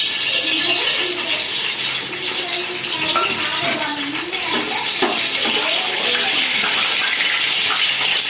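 Whole garam masala spices hit hot oil for a chicken dum biryani, giving a loud, continuous sizzle and crackle with bubbling that runs steadily throughout.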